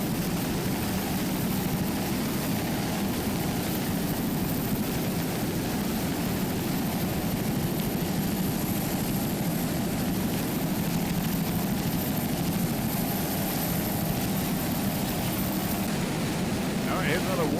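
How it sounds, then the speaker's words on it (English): Offshore racing powerboat, a 28-foot Ultimate Warlock driven by a single 500-horsepower Mercury inboard, racing at the 1999 West Palm Beach Offshore Challenge: a steady, dense engine roar drones on without a break at moderate distance, mixed with wind and water noise. "It's powered by one 500-horsepower Mercury inboard."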